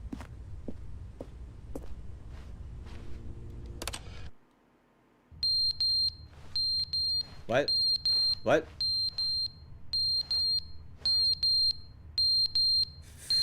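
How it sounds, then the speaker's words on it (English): Fire alarm in The Stanley Parable video game, a piercing high electronic beep repeating in short regular bursts after a brief silence, loud against a low background hum, with someone talking over it. "Fire alarm. Smoke detector."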